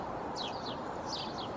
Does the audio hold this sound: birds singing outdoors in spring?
yes